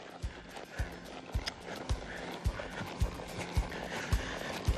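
A horse lopes around a riding arena, its hoofbeats thudding in a steady, rolling three-beat rhythm, about two strides a second. They sound close and fairly loud over a continuous background hiss, with no one speaking.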